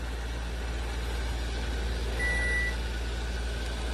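A kitchen timer gives one short, clear electronic beep, marking one minute while onions are blanched. It rises briefly over a steady background hum.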